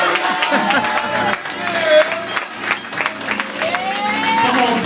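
Crowd claps and cheers at a poetry performance, lively applause mixed with shouts and a prominent voice over it, while musical tones run underneath.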